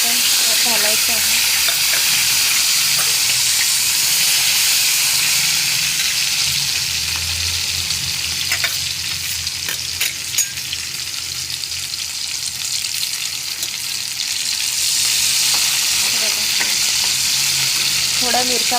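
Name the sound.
green chillies and fresh garlic frying in oil with cumin and mustard seeds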